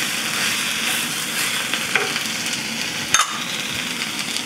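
Poha stirred with spices and onion in a hot pan gives a continuous sizzle with soft scraping strokes and an occasional utensil tap, close and steady, without speech.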